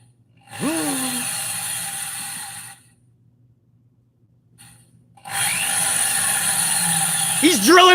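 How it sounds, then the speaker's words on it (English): A power drill whirs loudly in two long bursts separated by a quiet pause, with its motor pitch swooping up and down as the trigger is squeezed, as part of a wrestling entrance theme. "He's drilling away."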